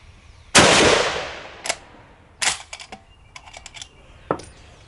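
An Ishapore 2A1 rifle in 7.62x51 fires at a range: one loud sharp report with a long decaying tail, followed by several fainter sharp cracks and clicks spread across the few seconds.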